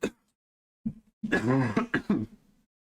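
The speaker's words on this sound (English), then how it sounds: "coughing like crazy" Several harsh coughs in quick succession, close and fairly loud, with short gaps between bursts and no other sound around them.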